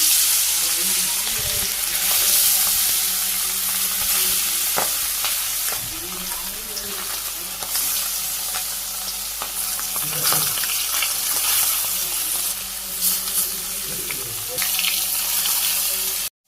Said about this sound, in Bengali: তেল গরম হয়ে গেছে তো মাছগুলো আমি দিয়ে দিই